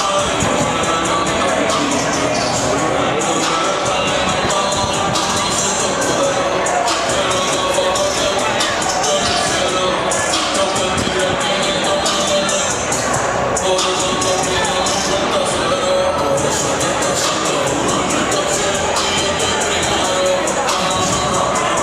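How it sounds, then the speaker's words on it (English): A packed crowd fills the gym at a high school boys varsity basketball game, a steady roar of babble and cheering with no pauses, loud and constant throughout. "Here we got packed crowd tonight."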